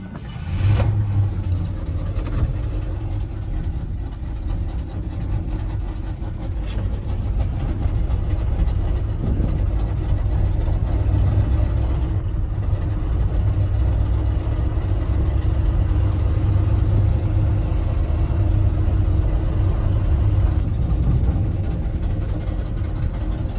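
An old Ford F-100 truck, long left sitting, fired up on the choke: its engine catches with a sharp start, then runs and idles roughly and steadily for a long stretch, close and loud.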